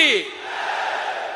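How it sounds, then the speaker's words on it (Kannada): A political rally crowd in Kalaburagi chanting a victory slogan together, a loud collective shout that rises sharply and then holds as a broad sustained roar of many voices. "ನೀವೆರಡೂ ಕೈ ಗಟ್ಟ ಹಿಡ್ಕೊಂಡು ಕೈ ಎತ್ತರಿಸಿ ಜೈಕಾರ ಹಾಕ್ಬೇಕು"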